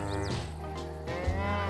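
A cow moos in a PS5 video game, a loud sustained low bellow filling most of the short clip over steady game background sound.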